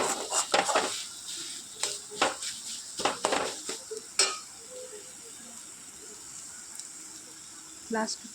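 Chicken momo filling is mixed with ketchup and soy sauce in a pan, with clustered spoon scrapes and clinks against metal over a light sizzle, busy at first and then quieter, with a brief clink near the end.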